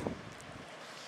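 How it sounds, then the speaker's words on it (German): Strong wind buffets the microphone on a stormy night in Sardinia, a steady broadband rush with a brief louder gust at the start, heard alone without any voices. "sehr windig hier in der stürmischen Nacht"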